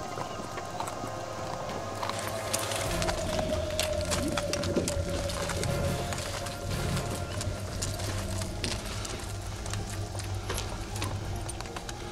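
Horses led on foot along a rocky Caucasus mountain trail, their hooves clopping in an uneven walking rhythm of sharp taps on stone, moderately close, with faint creaks and background noise throughout.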